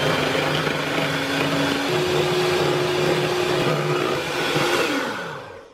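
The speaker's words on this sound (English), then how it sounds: "my cup of cream is in a bowl, and we are just going to whisk it up until it's thick and white and beautiful" A cup of cream whipped in a bowl until thick for a keto chocolate mousse, with a continuous whirring electric-mixer drone heard close up that slows and winds down at the end.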